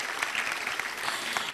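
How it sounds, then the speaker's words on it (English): An audience at a class of 2024 graduation ceremony claps for the teachers, a dense, steady burst of applause from many hands filling the whole moment. "Please join me to clap hands for them for the work well done"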